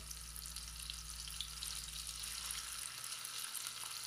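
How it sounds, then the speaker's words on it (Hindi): Beef seekh kababs fry on a tawa over a low flame, giving a steady, close sizzle with a soft crackle that carries on evenly throughout, with no voices. "और दूसरी साइड से भी इसी तरह हम 4 से 5 मिनट तक इनको लो फ्लेम पे फ्राई कर लेंगे"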